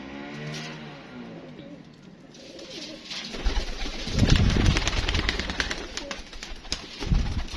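Homing pigeons coo in soft low rounds at first, then a car engine revs up nearby and drowns them out with a loud rumbling roar.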